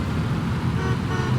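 Horn of a fire truck in the firefighting game FF Simulator Ignite, a sustained honk sounding over steady rumbling engine and road noise, loud and close with no pause.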